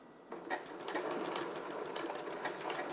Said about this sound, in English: we're going to sew down these lines. Alright, and we just sew down each of these lines